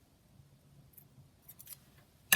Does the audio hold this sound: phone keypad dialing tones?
no